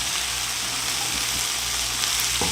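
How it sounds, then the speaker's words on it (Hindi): Chicken shawarma filling with cabbage stirred and mixed in a pan, a steady close sizzling and scraping wash that runs without pause, no voices. "इन सबको अच्छे से मिक्स करेंगे।"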